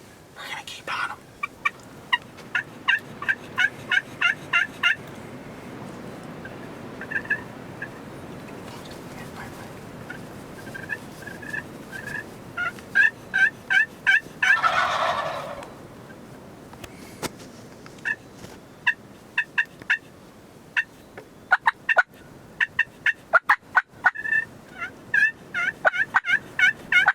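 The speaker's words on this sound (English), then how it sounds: "We got a whole bunch of jakes below this ridge still." Young wild turkeys (jakes) gobble repeatedly below a ridge during a Kansas archery hunt, the rattling calls coming in bursts at moderate distance over outdoor background noise, with scattered clicks and handling sounds.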